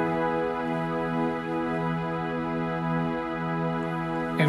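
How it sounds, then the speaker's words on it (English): A piano layered with a synth pad and strings holds a sustained, rich chord, loud and smooth with a slowly swelling texture and no other sounds. "Use a piano, layer it with a pad, and if possible, with strings. So it's gonna sound like this."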